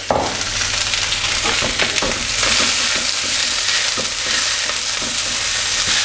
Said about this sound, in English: I've got about 4 tablespoons of oil in the wok, bringing that up to temperature now. So in goes all of the veg.